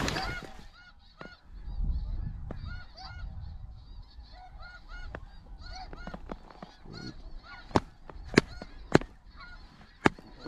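A flock of snow geese honks continuously over a small decoy spread on a hunt, their calls dense and overlapping at middle distance, followed by several sharp, loud shotgun blasts near the end.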